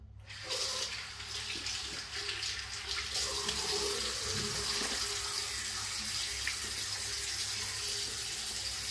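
A bathroom tap runs steadily for a cold rinse after a shave with a Rex Ambassador adjustable razor, a close, continuous hiss of water splashing into a sink, unbroken from start to finish with no talking.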